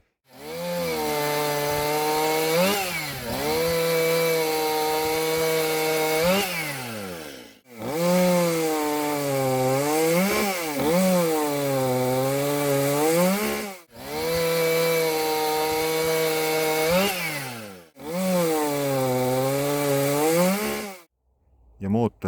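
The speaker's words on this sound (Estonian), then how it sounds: "Ma nüüd korraks kordan, missugust häält tegi minu arvates kõige meeldivam häälega saag" Small chainsaw engines (Echo 360 EVL, Dolmar PS 410, Stihl MS 181, Makita EA3) run in four long revving bursts, each rising and falling in pitch, loud and close with short silent breaks between.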